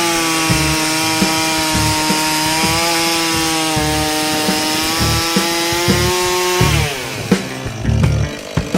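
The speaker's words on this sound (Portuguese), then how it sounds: "Imediatamente, pressione o acelerador para que a motosserra fique em marcha lenta" A STIHL chainsaw engine runs at a steady, buzzing idle close by, then revs up unevenly toward the end, with no talk over it.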